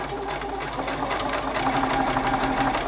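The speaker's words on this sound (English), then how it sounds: "So I'm just going to start sewing." A Juki sewing machine stitches steadily at close range, its fast mechanical needle chatter running continuously for about three seconds with no talk over it.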